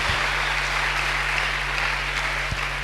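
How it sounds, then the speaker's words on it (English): A church congregation claps together during a sermon, a broad, even roar of many hands that holds steady throughout, with a low electrical hum running underneath and no speech. "I say clap for Jesus,"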